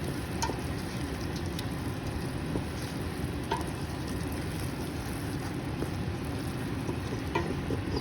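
A big batch of onions cooks down in a pot for French onion soup, giving a steady, even sizzle with scattered small pops and crackles throughout and no talking.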